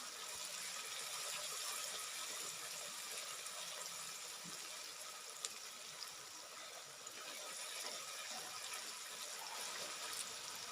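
Water poured into cooking masala spices for Punjabi sarson ka saag makes a continuous hissing, splashing sizzle that holds steady at moderate loudness with no speech.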